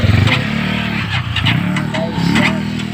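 A motorcycle engine idles and revs nearby, a loud low throbbing hum that rises and falls, with a voice talking over it.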